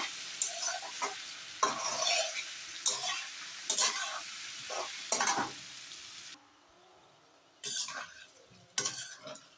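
Spice paste for a rohu fish curry with papaya is stirred and fried in a pan: repeated scraping stirs with a soft sizzle underneath, a brief quiet pause, then a few more stirs.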